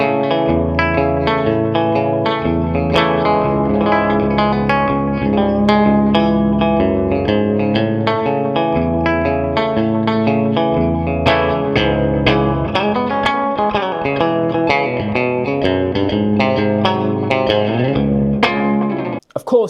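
A rubber bridge guitar heard through its bridge pickup, giving muted, plucky notes with short decay in a steady picked melody played loud and close, ending abruptly.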